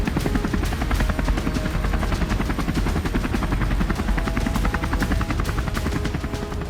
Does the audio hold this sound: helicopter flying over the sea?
yes